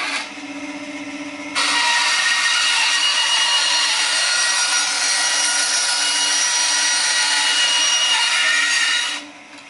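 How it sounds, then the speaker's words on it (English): A bandsaw hums at idle, then cuts through the end of a PVC pipe with a loud, steady rasping whine for about eight seconds before the blade clears and the motor drops back to its idle hum. "So I'm just going to use the bandsaw to clean up one of the ends so I can start marking a few things out."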